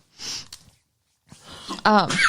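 A single quick sneeze up close, followed after a short pause by people talking.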